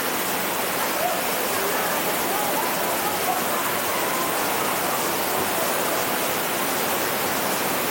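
A waterfall beside a bridge in Utopia park in Israel gives a loud, steady, broadband rush of falling water that stays constant throughout, with no other sounds standing out.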